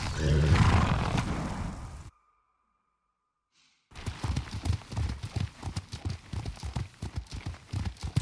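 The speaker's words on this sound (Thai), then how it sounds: "อ่าได้เวลาขึ้นม้าหนีแล้ว" Horse galloping in the Ghost of Tsushima video game: after a voice and a short silence, rapid rhythmic hoofbeats pound steadily and close for several seconds.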